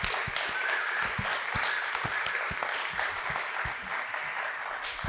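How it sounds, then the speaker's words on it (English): A crowd at a live event rises in a standing ovation, giving dense, steady applause of many hands clapping throughout without letup. "A second standing ovation. Applaud."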